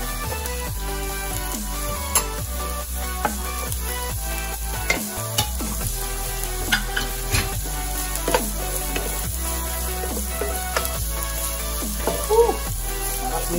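Garlic sautés in a pan with a steady, loud sizzle, while a spatula stirs and scrapes in repeated clattering strokes throughout.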